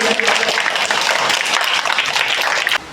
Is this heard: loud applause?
yes